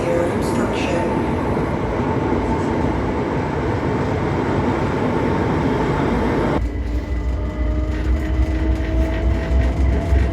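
A London train rides along with a loud, dense rumble and roar that shifts abruptly partway through, leaving a steadier low drone with faint whining tones.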